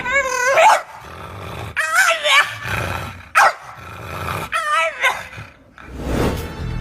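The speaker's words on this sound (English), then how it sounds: "The sound my other dog Willow, who's now on the scene, the sound Willow was making." A recording of a dog growling and barking plays: loud, rough bursts of snarling and yips come in separate outbursts with short gaps between them.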